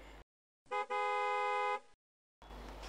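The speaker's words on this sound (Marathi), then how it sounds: "कशाला मोठ्या मोठ्याने हॉर्न वाजवते" A car horn sounds loud and close: a short toot, then one sustained blast lasting about a second, with traffic noise before and after.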